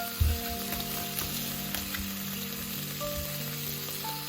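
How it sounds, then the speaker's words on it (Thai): Pork pieces sizzling and crackling steadily as they grill, with a continuous close frying hiss and occasional louder pops near the start, and no voices. "ลิ้นก็ใกล้สุกแล้วค่ะ มาย่างหมูกันต่อ"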